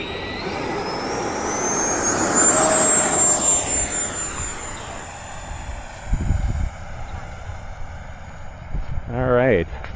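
A radio-controlled airplane flying on a Smart Pack 4000 50C battery whines overhead, its electric motor pitch sweeping up and then fading as it passes, with wind noise and brief talk near the end.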